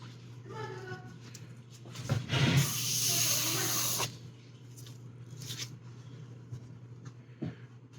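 An airbrush sprays Mr. Color 59 orange paint onto a quarter-scale figure in a short hissing burst of about two seconds over a steady low hum, with quiet sounds from the workspace before and after.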